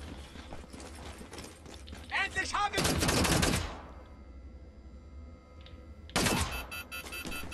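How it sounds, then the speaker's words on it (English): Enemy gunfire in Wolfenstein: The New Order on the Luna base level, heard as loud bursts of rapid shots in two separate clusters, with quieter game sounds and someone talking in between. "Keep getting shot at from here."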